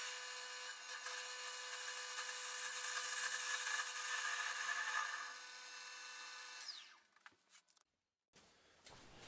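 A metal lathe parts off stock for a cutting oil pot, giving a steady bright cutting whine for several seconds before it stops, followed by a few faint clicks and handling noises.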